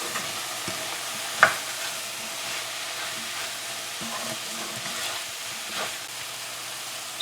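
Crushed garlic and pepper fry in a pan during a squash dish, a soft, steady sizzle and hiss with a single sharp clank of a utensil near the start.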